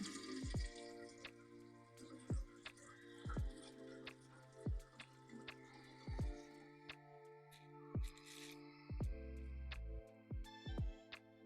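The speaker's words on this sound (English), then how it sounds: "Before I set to the side, I am going to give her some water. Gotta water this plant." Water poured onto a Monstera houseplant indoors, with soft irregular drips and trickles repeating every second or so over a quiet background, faint and close.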